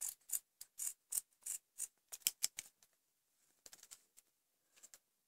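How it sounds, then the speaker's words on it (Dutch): Scissors snipping through duct tape while trimming a homemade towel holder, a series of crisp close cuts in quick irregular bursts, then a few quieter snips against near silence. "Dan kan je eventueel het verschil afknippen."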